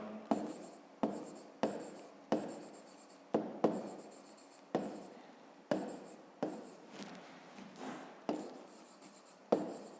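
A hand writes out a math solution on paper, each stroke a close, soft scratch of pen or pencil, repeating in a steady rhythm of short bursts with brief pauses.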